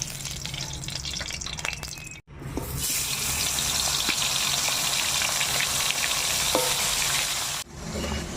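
Chital fish heads sizzle and crackle in hot oil in a wok, a loud continuous frying hiss that cuts out briefly and resumes, with scattered pops and stirring clatter and no talk.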